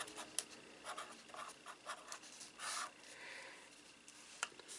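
A pen scratches across the paper pages of a budget planner, making a run of soft, close strokes and short pauses that ends in a firmer tap, very quiet and without any talking.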